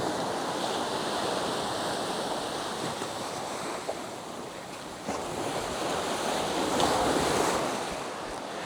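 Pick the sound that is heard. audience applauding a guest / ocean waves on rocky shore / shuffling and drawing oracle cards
ocean waves on rocky shore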